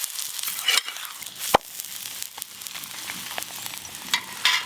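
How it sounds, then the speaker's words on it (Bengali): Paneer paratha frying in white oil on a pan, a steady crackling sizzle with sharp pops and a few louder spits, close and alone with no talk. "এবার তেল দিয়ে ভালো করে ভেজে নেব।"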